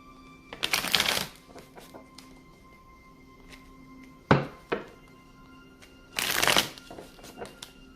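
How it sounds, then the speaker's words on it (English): Two bursts of card shuffling, a riffle near the start and another toward the end, with a couple of sharp taps in between; close and moderately quiet. "Three more shuffles for the twin flame"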